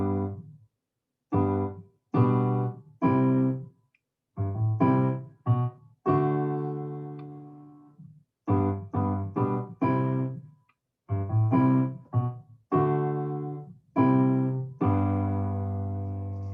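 Piano plays the low bass line with chords of the chorus of a song in short, detached phrases, separated by brief silences, close and clear.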